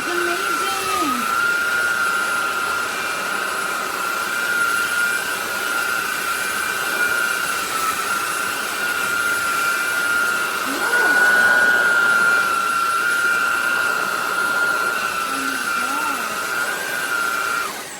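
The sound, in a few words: SMOTURE 600W cordless vacuum cleaner running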